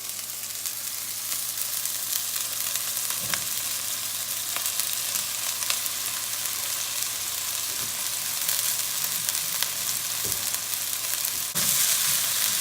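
Three-quarters of a pound of ground turkey frying in a pan, a continuous loud sizzle broken by occasional scraping stirs as the meat is broken apart, no talking.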